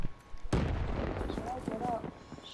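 A sniper rifle shot in Call of Duty: Black Ops III, one sharp loud crack followed by a rumbling tail, with a voice talking over the quiet game background.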